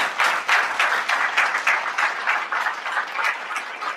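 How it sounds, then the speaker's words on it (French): An audience claps for a group of young people, a close, lively burst of applause with a slightly pulsing rhythm that stays strong throughout and has no talk over it. "je souhaiterais que vous les applaudissiez parce que c'est très clair"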